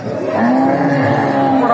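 Cattle lowing at a busy livestock market in Bogura, Bangladesh, a single sustained moo rising clearly over the crowd's background murmur, loud and close throughout.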